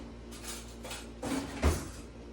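Kitchen dishes and cutlery clatter faintly while a spoon is fetched during roasted tomato soup prep: a few soft clinks and knocks, with a louder clunk near the end.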